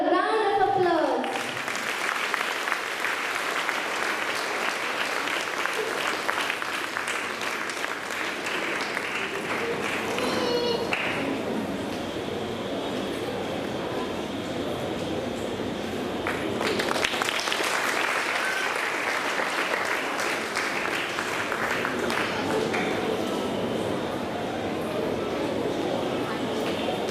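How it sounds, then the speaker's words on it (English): An audience at a student cultural program claps in sustained, dense applause lasting the whole stretch, fading slightly midway before swelling again, with some voices and children's chatter mixed in. "Kindly give a round of applause."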